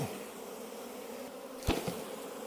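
Honey bees buzz steadily around an opened hive during an inspection, a soft continuous drone with a couple of brief knocks near the end.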